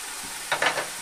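Chopped onion, onion paste and garlic paste in hot oil give a short, soft burst of sizzling and stirring, faint and close.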